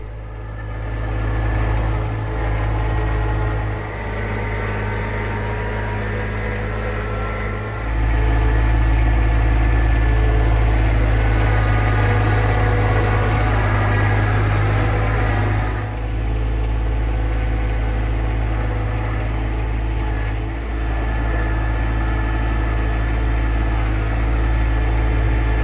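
Tractor engine running with the operator in a closed cab, a steady loud low idle drone that holds for the whole stretch with small shifts in level.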